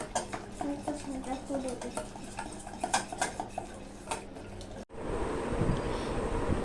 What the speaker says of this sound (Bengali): ভালোভাবে মিশিয়ে নিতে হবে